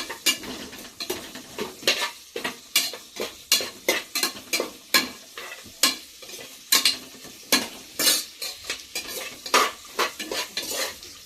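Three large onions, sliced lengthwise, fry in a pan with fennel seeds while a spoon scrapes and turns them in a quick, steady rhythm of many strokes over a low sizzle, heard close with no talking.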